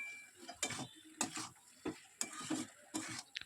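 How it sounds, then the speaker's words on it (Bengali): Boiled jackfruit, chicken and potatoes get stir-fried together in a pan, with a spatula scraping and clattering in sharp, regular strokes over a low, faint sizzle. "সেদ্ধ করে রাখা এঁচোড় মাংস আলুর সাথে ভালোভাবে কষিয়ে নেব।"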